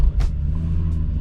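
Volkswagen Corrado VR6 engine heard up close, with a short starter burst and then a deep, steady idle rumble settling in over about a second.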